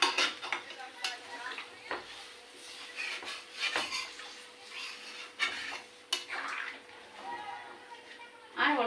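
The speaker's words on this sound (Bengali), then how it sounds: "এবার ওতে জল দেবো" Water splashes into a pan of simmering pumpkin and fish curry, with metal clinks of pot and utensil and a voice talking over it in a home kitchen.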